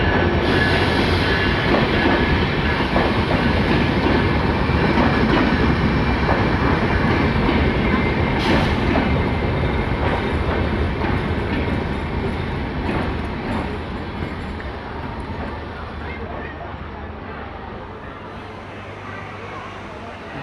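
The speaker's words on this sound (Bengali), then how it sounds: "ঢাকা অভিমুখী আন্তনগর পঞ্চগড় এক্সপ্রেস দিনাজপুর রেল স্টেশনে প্রবেশ করল।" The Panchagarh Express, a Dhaka-bound intercity train hauled by locomotive 223, rolls into Dinajpur railway station with a loud, dense rumble and faint wheel squeal. The noise slowly fades as the train slows, and no speech is heard.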